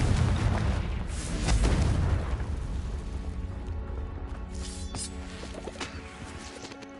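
Confringo blasting spell from a Harry Potter video game: a loud booming blast with rumbling low end in the first two seconds, fading into a softer sustained tail with faint game music.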